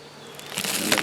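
Honey bees buzz around an opened hive during an inspection in southwest Michigan, a faint, steady hum that grows louder and busier toward the end, with no talking.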